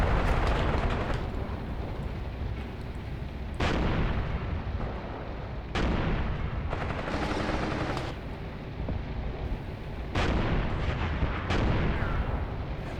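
Artillery fire in the Graviteam Tactics Mius Front war game, with repeated heavy booming blasts and rumbling impacts, one scoring a direct hit on a large gun, loud and continuous over about thirteen seconds.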